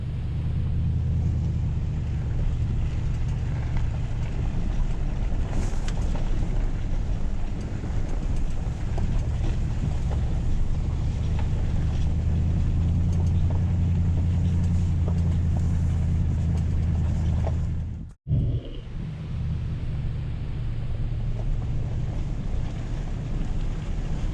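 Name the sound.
car driving down a road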